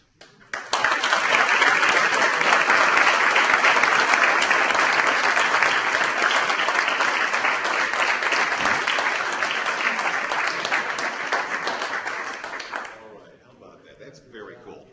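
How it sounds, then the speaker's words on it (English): An audience at a chamber of commerce ceremony honoring first responders breaks into sustained applause, dense and loud for about twelve seconds before fading to scattered claps and faint room noise. "I would like to give a round of applause for all of our awardees this afternoon."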